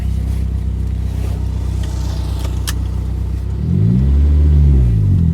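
A Honda Civic RS Turbo runs with a low, steady engine rumble before rising into a louder, sweeping acceleration near the end, heard close and without talk.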